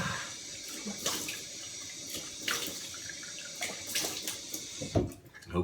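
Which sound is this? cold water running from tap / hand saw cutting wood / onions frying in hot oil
cold water running from tap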